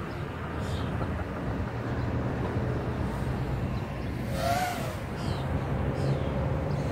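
Kingkong 110GT mini FPV drone motors under throttle give a steady, dense whirring roar, with a brief rising and falling whine near the middle. No one speaks.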